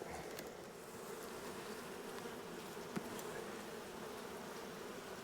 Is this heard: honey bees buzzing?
yes